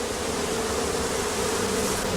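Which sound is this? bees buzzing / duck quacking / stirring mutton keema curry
bees buzzing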